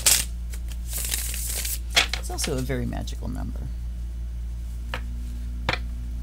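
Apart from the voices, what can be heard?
shuffling a Universal Tarot card deck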